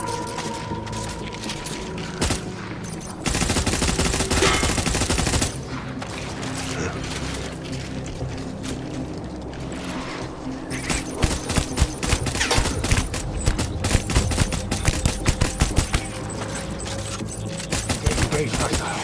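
Gunfire in the video game Death Stranding, a dense fusillade of rapid shots and bursts running through most of the stretch, loud and busy, with mechanical clatter and game sounds mixed in.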